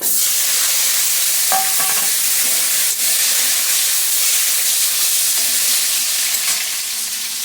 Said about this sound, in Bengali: আমগুলি দিয়ে আমগুলি একটু নুন হলুদ দিয়ে ভেজে নিচ্ছি।